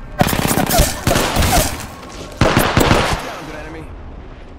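Automatic weapon fire in the video game Apex Legends: loud, close bursts of rapid shots in two main volleys, with a brief pause between them, while a voice speaks over the shooting.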